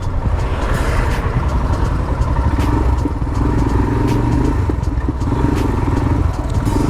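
A BMW G 310 GS single-cylinder motorcycle running nearby, a steady loud low engine drone with rattling mechanical clatter and occasional sharp ticks throughout.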